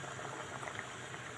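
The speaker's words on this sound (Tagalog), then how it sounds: "Ayan, kumukulo na siya." Quiet, steady bubbling of water at a rolling boil in a pot for shrimp sinigang, a continuous soft gurgle with no voices.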